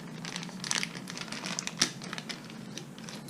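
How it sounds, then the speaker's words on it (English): Plastic bag of RAM Mount stem mount parts for a Honda CBR650R being opened by hand, with close crinkling and rustling over about three seconds, a few sharper crackles standing out. "open this bag right here"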